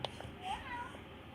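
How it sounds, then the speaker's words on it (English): A cat meows in a short, rising cry, close and fairly faint, with background chatter around it. "that's a cat"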